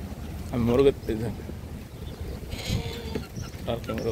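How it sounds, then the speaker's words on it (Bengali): Young goat kids bleat on a livestock farm in Bahrain, short wavering calls coming in a few separate bursts near the start and end over low background farm noise. "ছাগলের বাচ্চাও আছে,"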